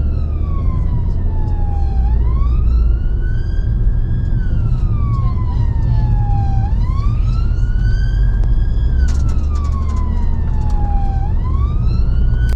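A loud wailing ambulance siren rises and falls in slow repeated sweeps over the steady rumble of rush-hour traffic on a North London motorway.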